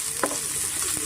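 Onions fried with salt and turmeric in a pan for brinjal chutney, sizzling steadily up close, with a couple of brief stirring scrapes and no voices.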